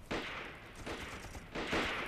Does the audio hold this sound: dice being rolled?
no